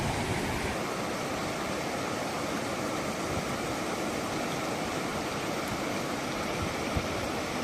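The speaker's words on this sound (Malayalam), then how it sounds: "വെള്ളച്ചാട്ടം കണ്ടോ അടിപൊളിയല്ലേ" A steady, dense roar of rushing water fills the whole clip, loud and unbroken, like a waterfall heard up close.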